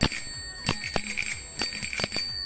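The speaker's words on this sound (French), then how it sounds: "c'est la sonnette, c'est plus pour le petit gadget." A bicycle bell rings repeatedly, several bright metallic dings in quick succession, close and clear with ringing overtones between strikes.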